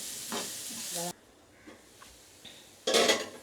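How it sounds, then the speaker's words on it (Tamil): Onions frying in oil in a pan with a soft sizzle, broken by sharp metallic stirring and scraping bursts near the start and end, with brief faint voice traces. "வெங்காயம் கொஞ்சம் நல்லா வதங்கட்டும் மக்களே."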